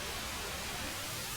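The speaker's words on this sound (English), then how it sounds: "Kind of has this nice chorusing white noise effect." Synthesizer white noise thickened by a J106-style chorus effect, a soft, steady hiss with a gentle swirling shimmer, alone and fairly quiet for a short stretch.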